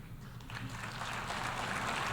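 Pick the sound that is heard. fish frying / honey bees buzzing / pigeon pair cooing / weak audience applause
weak audience applause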